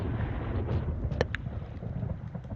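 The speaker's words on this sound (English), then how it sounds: "I'm not sure why every time you attach the rod it makes a thundering sound." Thundering rumble made when a fishing rod is attached in the Second Life game, a low continuous wind-like roar at moderate volume with a couple of brief faint clicks partway through.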